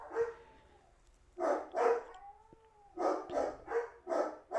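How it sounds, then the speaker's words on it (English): Dogs howl with long, rising and falling wails, mixed with sharper bark-like bursts that come in a loose, repeated rhythm and sound fairly close. "now they're howling"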